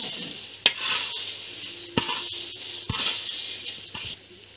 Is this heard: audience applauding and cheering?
no